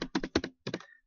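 Close keystrokes on a computer keyboard come in a quick cluster of four or five taps, a short pause, then a final pair of clacks, clear and alone.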